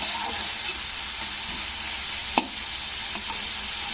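Steady close sizzle of salt and coriander leaves sautéing in a pan for green coriander rice, with a couple of brief sharp spoon taps against the pan and no talking.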